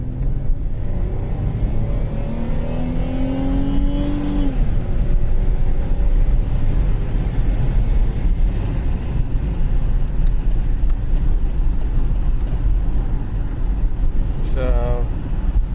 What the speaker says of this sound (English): We're going to go wide open throttle right here.